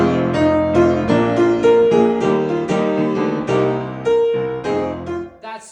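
Solo piano playing the Evangelion theme with a flat, wrong touch, a steady run of clear struck notes and chords lasting several seconds, close and moderately loud, with no voices.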